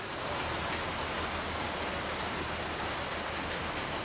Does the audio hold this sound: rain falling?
yes